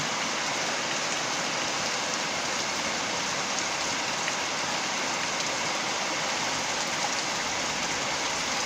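Rain falls steadily outdoors, an even hiss of drops on surfaces that holds at a moderate level throughout with no voices.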